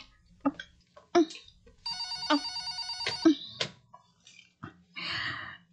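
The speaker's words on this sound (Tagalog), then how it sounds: "Ang telepono." A telephone rings in a quiet house in a drama scene, a steady electronic ring burst sounding clearly in the middle, with short voice sounds and small room noises before and after it.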